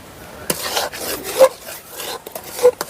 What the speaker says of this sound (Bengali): এইভাবে নাড়তে হবে যাতে না নিচে বসে যায়